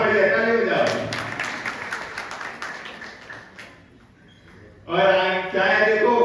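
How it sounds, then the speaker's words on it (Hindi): An audience at a Jain Paryushan festival gathering claps in a burst of applause that thins and fades to near quiet, then a fresh round of clapping breaks out, with a voice heard at the start. "ताली बजाओ।"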